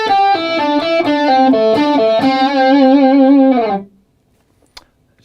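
A distorted electric guitar plays a blues rock lick in a fast run of picked and bent notes for nearly four seconds, loud and alone, then cuts off abruptly into near silence.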